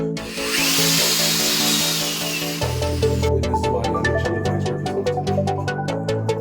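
A power drill whirs steadily, then shifts pitch as the bit bites into pieces clamped in a vise, with a close, continuous mechanical grinding.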